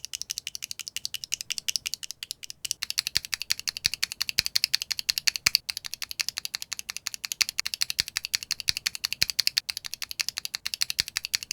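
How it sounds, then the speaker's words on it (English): A loose Frankenswitched keyboard switch built from a Gateron KS3 top and ink bottom, pressed in rapid, steady succession: sharp, close clacks with a slight thock, repeated for about eleven seconds without talk. "Now here's the Frankenswitched version."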